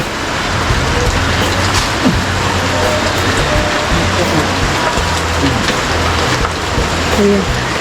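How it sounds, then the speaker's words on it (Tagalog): Heavy rain pours down steadily and loudly close by, a dense continuous hiss with scattered drips and spatters on nearby surfaces, with faint voices in the background. "Ay, ulan."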